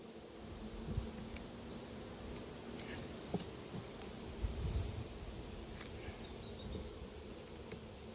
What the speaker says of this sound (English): Very, very nice bees to work with